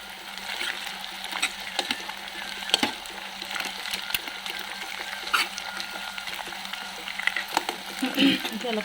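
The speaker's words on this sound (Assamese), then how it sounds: "এইটো এতিয়া পিঁয়াজৰ লগত ডিমটো ভাজি লোৱা হ'বলৈ" Broiler egg frying together with onion in a pan makes a steady low crackle, with scattered sharper pops and faint scrapes of a utensil throughout.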